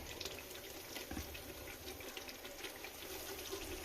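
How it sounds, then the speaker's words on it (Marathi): Water boiling for rice in a pot bubbles, rumbles and gurgles steadily at close range, with no voices. "इकडे आपण पाणी जे ठेवलं होतं तांदळासाठी ते चांगली उकळी आली आहे"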